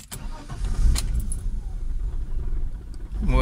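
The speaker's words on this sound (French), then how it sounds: "je mets le contact et lorsque je la démarre" BMW E34 525i engine turning over and catching cold, then idling roughly with an uneven, shaking rumble close by, with no talk over it.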